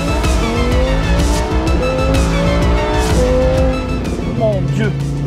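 Loud Lamborghini Huracan Evo engine revving hard as it accelerates from a standstill on a track, climbing through gears, with tire squeal and roaring exhaust close by, and voices underneath.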